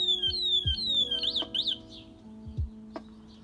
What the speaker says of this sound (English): The third function with the lock symbol would activate an alarm mechanism which would trigger a sound